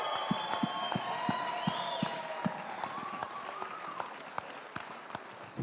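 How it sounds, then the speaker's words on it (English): An audience at a benefit auction applauds at a moderate distance, scattered claps with some cheering and whistles mixed into the crowd noise, gradually easing off. "Give him a round of applause."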